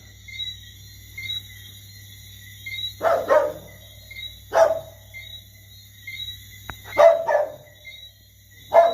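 A dog barks outdoors in short bursts at a distance, several barks spread across the clip over steady insect or cricket chirping and a low background hum.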